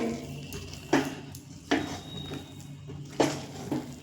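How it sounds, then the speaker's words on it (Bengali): An almond and sugar mixture is stirred in a pan for barfi, with a spoon knocking against the metal in a few sharp clinks spaced about a second apart over a low background hum. "বাদাম আর চিনির এই মিশ্রণটা মিশিয়ে নেব অবশ্যই কিন্তু এইভাবে নাড়তে থাকতে হবে"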